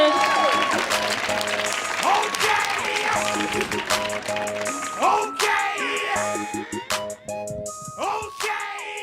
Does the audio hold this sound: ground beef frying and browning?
no